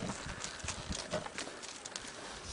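A horse's hooves clip-clop on the ground at a farm round pen, a steady run of quiet, fairly distant footfalls under faint background noise.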